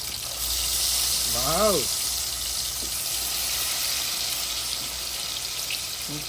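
Camel meat frying in a pan of hot oil gives a steady, loud sizzle, with a brief tonal voice or whistle rising over it partway through.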